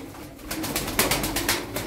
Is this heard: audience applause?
no